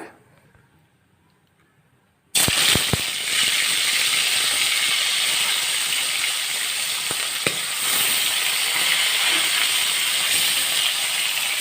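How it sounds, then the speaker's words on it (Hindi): Rohu fish pieces drop into hot oil in a kadhai and burst into a loud, steady sizzle with a few sharp crackles at the start, continuing evenly after a quiet lead-in. "देखंतु एही भाव में आमे माछ को भाजी नबा।"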